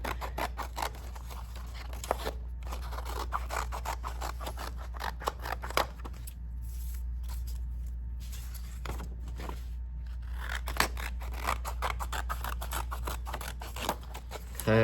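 Scissors snip steadily through paper as a butterfly shape is cut out, a close run of small crisp cuts and rustles with a few short pauses and no talking.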